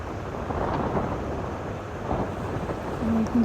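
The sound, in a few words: thunder and heavy rain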